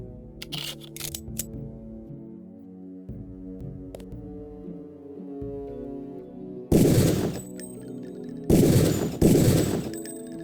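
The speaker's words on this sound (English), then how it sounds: "Release the first target and take a few shots with one of the pistols until it is destroyed." Pistol fire at training targets in the game Deus Ex: a few sharp early cracks, then two loud clusters of rapid shots near the end, ringing over a steady droning tone.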